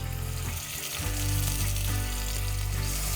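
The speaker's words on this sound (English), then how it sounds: "now I'm going to start searing this wonderful bear meat in preparation for our braise" Bear meat sears in a preheated cast iron pot over a medium-high fire, giving a steady, loud, close sizzle that swells slightly after a brief dip and continues without talk.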